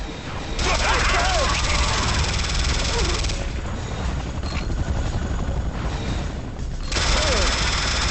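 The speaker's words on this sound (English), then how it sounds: "when it involves a chain gun being shot" In the video game Renegade, a chain gun fires in sustained rapid bursts close by, loud and dense, with short pauses and a whooshing mechanical undertone.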